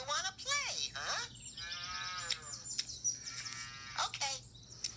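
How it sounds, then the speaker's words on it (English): A cartoon cow moos in long, drawn-out calls with wavering pitch, several in a row, loud and close. Other voices chatter around the calls. "Realistic cow."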